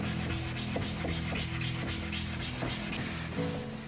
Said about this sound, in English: I lost some time with the detailed sanding